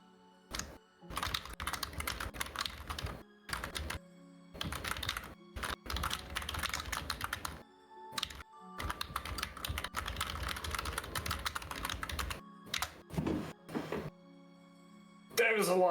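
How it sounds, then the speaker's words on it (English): Rapid computer keyboard typing fills the scene in long dense bursts broken by short pauses, close and fairly loud, with a few heavier thumps near the end. "That was a lot of typing."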